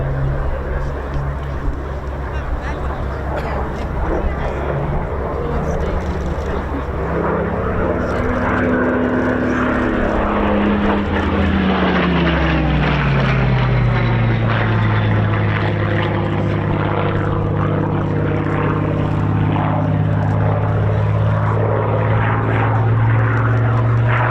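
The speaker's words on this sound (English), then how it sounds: "bringing the Spitfire round into the 360 path" A Spitfire propeller aircraft at an air show display, its engine drone rising and falling as it turns round into a 360 pass low along the display line, with a commentator talking over it throughout.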